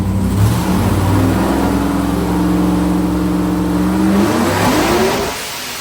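A boosted 427 LS engine makes a loud pull on a dyno, its note climbing steadily for several seconds before dropping off at the end, with no talking over it.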